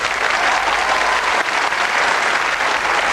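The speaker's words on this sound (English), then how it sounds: "Big round of applause for playing Cluedo." A 1993 British television studio audience gives the Cluedo contestants a round of applause, a loud, sustained, even burst of many hands clapping with no speech over it.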